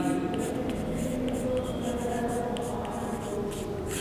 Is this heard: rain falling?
no